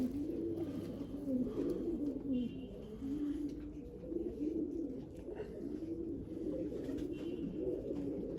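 Several pigeons coo continuously nearby in a pigeon loft, soft overlapping throaty calls rolling on over a low indoor hum.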